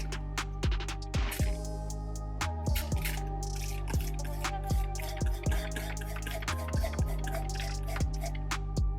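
Water poured into the intake of a Suzuki 4-stroke engine drips steadily, with irregular close, clear drops and small splashes over a quiet background.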